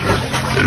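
A pig grunting in a pen during heavy rain and flooding, a short, loud, close burst of rough low oinking.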